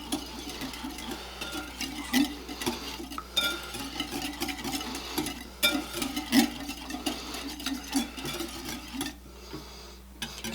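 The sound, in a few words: whisking salt into a marinade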